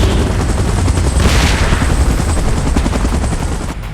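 A helicopter in the PUBG video game roars loudly and continuously with dense rotor chop and a brief swelling whoosh, filling the whole stretch.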